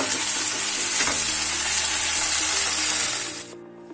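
Chopped onions sizzle and fry steadily in a hot pan while browning for a turnip and pea curry, a loud, continuous hiss that cuts off abruptly near the end.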